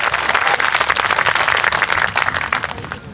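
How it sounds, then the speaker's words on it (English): A Freedom Day rally crowd applauds loudly and close for a poet coming to the stage, a thick, continuous roar of clapping that thins slightly at the end. "If we can give him a round of applause as well"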